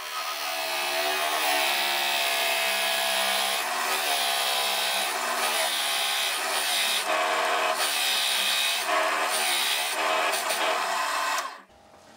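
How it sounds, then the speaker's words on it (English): A drill press grinds steadily through wood for about eleven seconds, loud and close, with shifting rasping tones before cutting off abruptly. "And finally now, let's see how the drill press performs."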